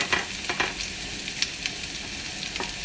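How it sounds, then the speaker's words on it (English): Garlic, onion and green pepper sizzle in hot oil in a pan, a soft, steady frying crackle with occasional stirring scrapes, close and fairly quiet, no voices. "when the oil is get hot, we're going to put our garlic, onion, and green pepper"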